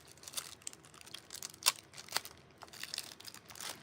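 Cut-out foil pieces being peeled off a foiled baseball cap, with quiet, irregular crinkling and light tearing rustles and a few sharper crackles, close up and faint.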